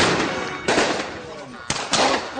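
Gunshot sound effects from the San Andreas video game played over speakers at a mock White House ceremony, two loud sharp bursts with ringing decay, the second a rapid double.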